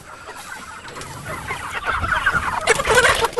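Chickens on a pasture farm cluck and call in a busy, steady flock chatter that grows louder and denser toward the end, with no talking.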